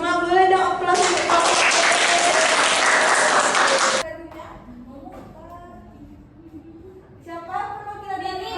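Classroom group applauding student representatives, a few seconds of dense hand clapping, followed by a teacher's voice talking.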